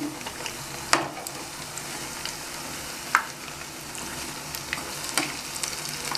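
Coriander leaf pakoras, battered and dipped, deep-fry in oil as a soft, continuous sizzle, broken by a few sharp spatters and pops, with no voices.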